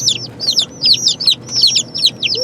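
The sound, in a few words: baby chicks chirping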